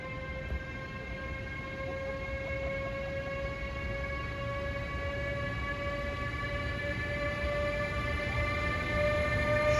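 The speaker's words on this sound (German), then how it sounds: "das könnte ein Güterzug sein, wir werden es gleich sehen" A freight train passes through Gießen station as a steady, loud rumble with a sustained multi-tone horn or squeal held throughout.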